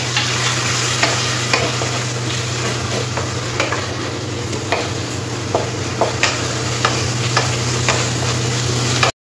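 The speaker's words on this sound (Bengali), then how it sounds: "এবারে এতে একটু জল দিয়ে দেবো, দিয়ে মশলাটাকে খুব ভালো করে কষে নেব।" Spice paste of ground coriander and cumin cooks with a splash of water in a pan for a masala chicken, giving a steady loud sizzle with scattered scraping stir strokes throughout.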